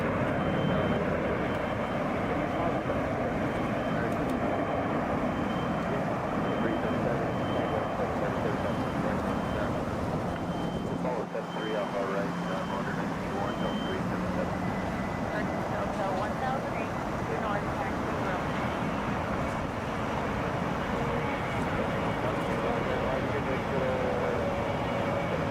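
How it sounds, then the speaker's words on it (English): A Delta Boeing 717 takes off at Hartsfield-Jackson Atlanta airport, its steady broadband engine roar filling the air and holding at a loud level throughout. "Taking off right now. That's Delta 2128 headed for Wichita, Boeing 717."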